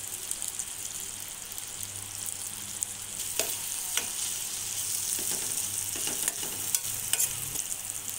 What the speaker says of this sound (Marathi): यानंतर यामध्ये साधारण 3 टोमॅटो टाकून ते परतवून घेऊया.